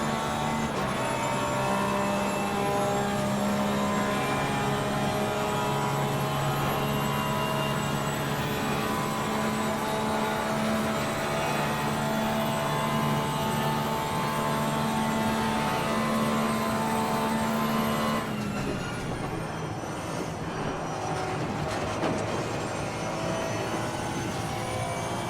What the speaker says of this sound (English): the Porsche's got a very distinctive engine sound